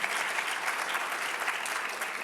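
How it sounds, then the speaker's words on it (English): An audience gives a quick round of applause at an award event, steady dense clapping that fills the whole moment at moderate distance with no voices over it. "so we could give him a quick round of applause."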